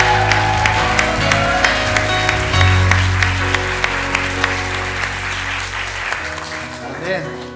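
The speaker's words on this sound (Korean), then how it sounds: "우리 더 큰 박수를 하나님께 올립니다." A church congregation at a Christmas worship service in Daejeon applauds together, steady rhythmic clapping over sustained music tones, loud and close, fading near the end.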